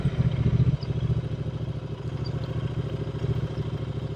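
A Royal Enfield Continental GT 650 twin-cylinder motorcycle runs steadily with an even, pulsing engine drone, close and moderately loud, preceded by a brief rougher burst.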